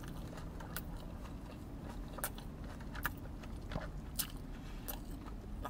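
Soft-shell birria tacos from Del Taco being bitten and chewed up close, with quiet, irregular moist bites and crunches over a low background and no talking.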